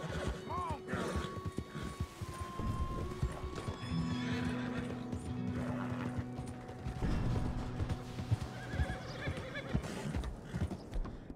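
A horse neighs and its hooves clip-clop in Red Dead Redemption 2, mixed with mechanical clicking and a steady game background, loud and close throughout.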